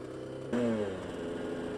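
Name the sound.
Kawasaki motorcycle passing by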